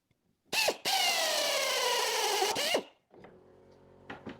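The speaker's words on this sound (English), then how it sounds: "So I need to countersink that a bit more." A drill countersinks a screw hole in wood: a short burst, a brief pause, then a loud, steady whine for about two seconds that winds down, followed by quieter clicks and handling noises close by.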